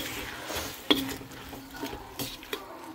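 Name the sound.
sautéing garlic, tomato and onion in a pan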